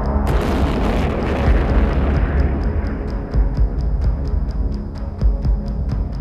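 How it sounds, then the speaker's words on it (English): Ammunition aboard a military train at a railway station exploding after a missile strike: continuous heavy booming rumble with bursts and pops, then a fast regular ticking of crackling detonations over a low roar. "Explosions can be seen in the video as the critical ammunition on board is destroyed"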